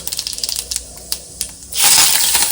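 Mustard seeds and cumin crackle in hot oil during tempering, with rapid sharp pops and ticks that give way to a loud, broad hiss as the seeds sizzle hard near the end.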